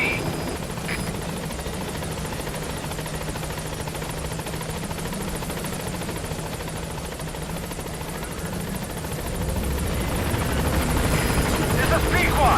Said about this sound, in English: get on the chopper